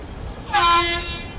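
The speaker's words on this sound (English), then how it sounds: "the hooter sounds effectively this time" Field hockey match hooter sounding a single loud, steady tonal blast lasting about half a second over a murmuring stadium background.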